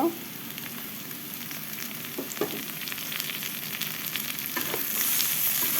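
Chopped onion and garlic fry in a pan with garam masala, a close, continuous crackling sizzle with a few soft stirring knocks, growing slightly louder toward the end.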